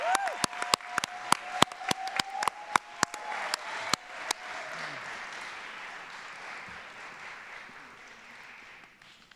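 An audience at an equity awards ceremony applauds student award winners, with a burst of sharp, loud claps at first that settles into steady, fading applause from a crowd.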